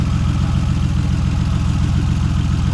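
Car engine idling roughly in a country auto repair shop during an ignition coil check, a loud, close, steady low rumble with a pulsing uneven beat and no voices.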